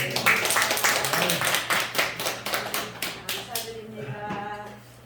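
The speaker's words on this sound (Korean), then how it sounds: "하나님께 영광의 박수를 올려드립니다." A church congregation claps in a rapid, dense burst of applause that gradually thins and fades over a few seconds, with faint voices mixed in.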